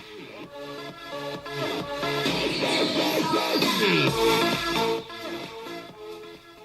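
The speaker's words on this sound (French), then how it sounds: "Donc à savoir que c'est un son de remix." Remix music played through the built-in speaker of an LG G2 smartphone, a dense, busy electronic track with steady beats and layered synths, fairly loud and continuous with no talking.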